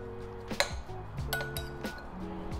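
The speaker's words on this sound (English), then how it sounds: "Gonna take a spoon and kind of mix it up." A spoon stirring lime juice, grated lime zest and chopped herbs in a bowl, giving a few light clinks against the bowl's side, quiet and close, with no talking.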